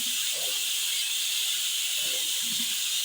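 Dough frying in hot oil with sugar syrup gives a steady, bright sizzle and hiss throughout, with a few soft low bubbling pops beneath it.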